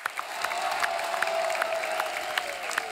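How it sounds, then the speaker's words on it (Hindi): Steady audience applause with scattered cheering at a televised comedy talk show, dense and continuous throughout at a moderate level with no talk over it. "जोरदार तालियां हो जाए इनके लिए"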